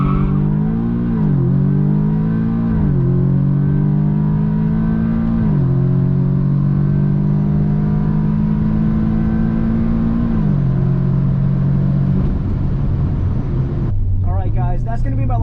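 A Stage 2 Audi S3 launches down a quarter-mile drag strip, its engine climbing through repeated upshifts with brief dips between gears, loud and close, then the revs fall away near the end.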